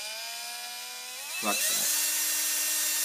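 Cordless drill whirring steadily at high pitch, then briefly released and clicked into reverse before spinning back up to a constant whine; close and fairly loud.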